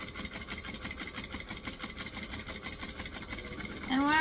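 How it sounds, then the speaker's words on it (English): A sewing machine runs steadily, stitching and back-stitching a seam on an enlarged Vixen bag. It keeps up a fast, even mechanical whir that swells slightly louder at the very end. "So we're going to stitch here and back stitch."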